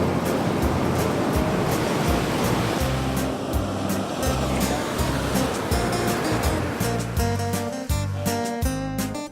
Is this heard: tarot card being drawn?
no